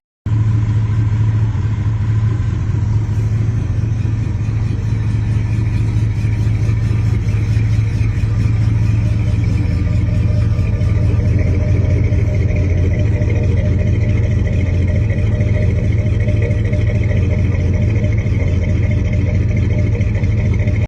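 A 1958 Chevy Apache 3100 truck's V8 engine rumbles steadily at idle or low revs for a long, unbroken stretch, loud and close with a deep, even tone and no talking.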